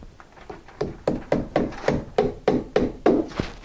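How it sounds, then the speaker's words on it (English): Hammer blows drive nails into flashing around a window opening, about ten close, evenly spaced sharp knocks that gradually grow louder, with no talking. "I'll finish nailing it"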